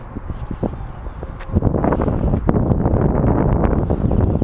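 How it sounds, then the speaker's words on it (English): Strong outdoor wind roars and buffets close against the microphone in loud, continuous gusts, growing heavier after the first second and a half. "Woo, it's windy."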